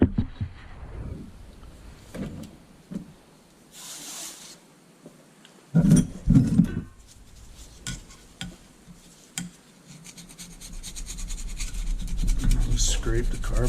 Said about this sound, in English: Scrape the carbon off